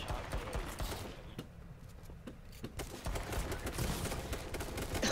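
Rapid bursts of gunfire in the H1Z1 battle royale game crackle through a dense, noisy mix, with sharp repeated shots scattered throughout and a brief quieter lull in the middle.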